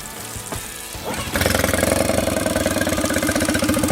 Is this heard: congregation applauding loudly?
no